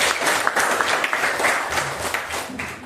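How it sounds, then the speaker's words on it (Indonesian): Schoolchildren applauding together in a classroom, a dense, steady burst of clapping heard close and loud for a few seconds. "Tepuk tangan untuk kita semua."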